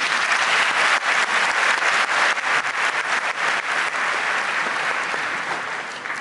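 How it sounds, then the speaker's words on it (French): Large audience of the African diaspora applauding at a French-language public address: dense, loud, sustained clapping from many hands that fades slightly toward the end, with no clear talk. "Mesdames, Messieurs, applaudissez-vous."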